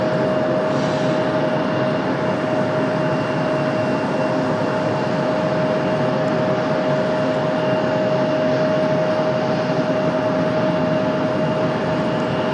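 An American Airlines Airbus A319 taxis at Raleigh-Durham International Airport, its engines giving a loud, continuous roar with a steady whine held throughout and no one talking.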